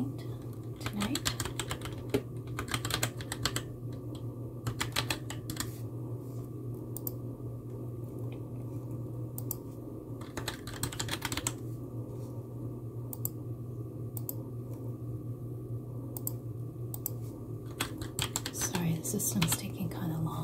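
Typing on a computer keyboard during a night nurse triage call, steady soft key clicks running through the whole stretch over a low constant hum, with faint voices now and then.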